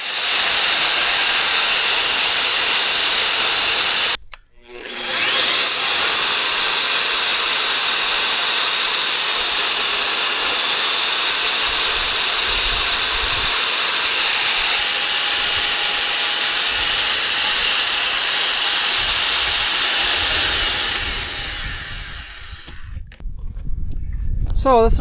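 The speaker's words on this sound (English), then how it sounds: "this is my mag base drill" A loud magnetic base drill whirs continuously through metal, pausing briefly early on before spinning back up and winding down at the end.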